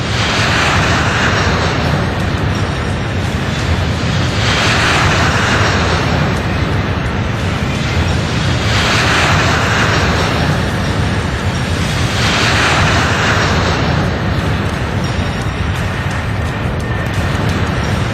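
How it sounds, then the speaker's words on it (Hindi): The Stratolaunch giant aircraft roars continuously in flight with loud, dense engine noise that swells and fades in slow, regular waves. "इस विशाल विमान को देखना किसी अजूबे से कम नहीं है।"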